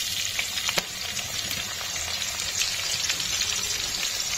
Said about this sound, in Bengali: আমি এখানে দিচ্ছি এলাচ, লবঙ্গ আর দারচিনি, দিয়ে দেবো এবার এটাকে তেলে।